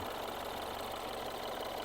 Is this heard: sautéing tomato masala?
no